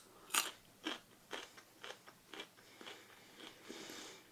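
A homegrown raw carrot, freshly washed, is bitten with a sharp crisp snap and then chewed in a run of close, crunchy bites that gradually soften.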